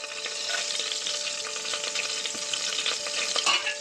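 Spices frying in hot ghee in a pot at the start of chicken biryani, giving a steady, dense crackling sizzle with light stirring clicks throughout.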